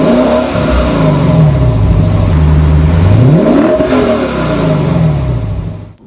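A naturally aspirated car engine revving hard under full acceleration, loud and close, climbing through gears with rising and falling pitch sweeps before cutting off.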